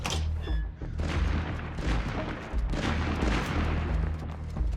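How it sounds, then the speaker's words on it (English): Distant gunfire from other survivors in the State of Decay 2 video game, heard as a dull, rumbling burst of shots and booms under a steady game soundscape, with no clear talk. "I hear them shooting over here."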